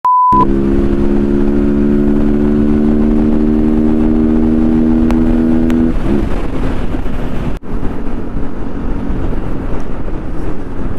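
A motorcycle with a DS3 engine riding on a Bengaluru city road, a loud steady engine drone under strong wind rush, with the engine tone holding steady and then dropping away partway through.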